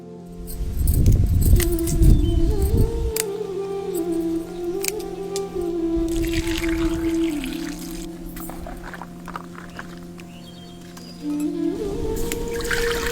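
Water pours and splashes in a container while broken green tamarind pods are rinsed and swished around, a steady close sloshing with a clinking, jangly edge.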